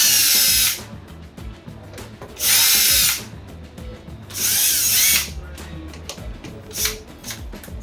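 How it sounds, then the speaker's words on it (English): A power drill backs out the screws of an electrical connector plate on a Seattle Pottery Supply kiln, with three loud whirring bursts and a shorter fourth one, separated by quieter handling clicks. "it's handy dandy to have yourself a nice little power drill"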